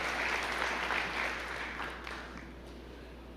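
Church congregation applauds during a sermon, a dense patter of many hands that starts moderately loud, then thins and fades toward the end before a sharp sound at the very close.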